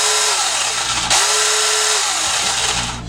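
A small battery-powered 4-inch mini chainsaw runs steadily and close up with a loud, continuous whine, briefly rising in pitch near the middle before dropping back and trailing off at the end; no voices.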